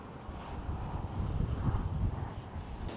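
Strong wind at the Delta Works in the Netherlands, where windmills spin hard, roars as a steady low buffeting rumble across the microphone, rising slightly midway, with no talking.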